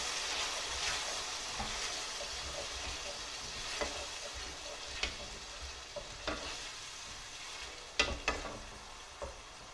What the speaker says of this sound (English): As you can see, in went the blended tomatoes.